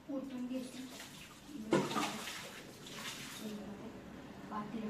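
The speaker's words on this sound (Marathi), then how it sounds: "आणि आता मी हे पाणी ओतून घेते" Water pours out of a kitchen pot in a splashing gush with a couple of surges, close and moderately loud, while someone talks over it.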